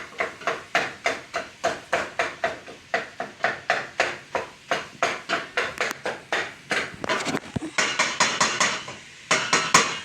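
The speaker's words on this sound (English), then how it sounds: "I'm literally just pounding it like a mortar and pestle" Garlic and vegetables being pounded for sofrito, like in a mortar and pestle, in a steady series of close, sharp knocks, about two or three per second, continuing without speech.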